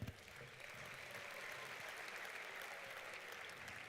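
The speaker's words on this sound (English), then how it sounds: "a round of applause" Steady applause from a crowd, sustained and even throughout, with a brief louder burst at the start.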